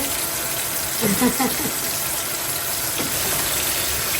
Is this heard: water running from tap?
yes